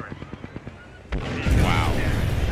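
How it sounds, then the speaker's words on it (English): A cluster weapon fires in a video game: a string of light rhythmic pops gives way to a sudden loud blast and a sustained, roaring barrage of explosions nearby. "Stand back, now cluster's firing."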